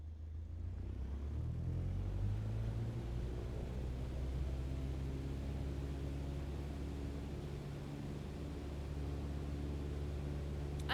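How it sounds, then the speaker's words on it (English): A small airplane engine runs up before flight with a steady, close, droning rumble that swells slightly early on, then holds a constant throbbing tone throughout. "So once I rev the engine, I'll check the sound."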